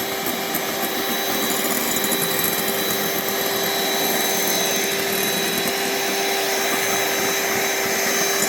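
An electric mixer whips six egg whites, a steady, loud, close motor whine with a constant pitch and no pauses or talking.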